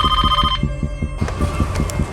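A phone rings in a Crime Patrol television crime drama scene, giving about half a second of electronic ring over a steady throbbing pulse. A dark, droning background score follows and continues to the end.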